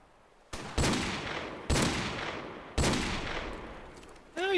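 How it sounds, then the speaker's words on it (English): Three heavy Desert Eagle pistol shots in Call of Duty ring out about a second apart, each a sharp, loud crack with a long echoing tail, followed by a brief warbling sound at the end. "I'm pulling out the deagle now"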